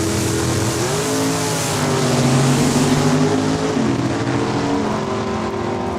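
Race cars at Saskatchewan International Raceway in Saskatoon, launching down a drag strip during a points race: loud, sustained engine roar whose pitch climbs and shifts as the cars accelerate away.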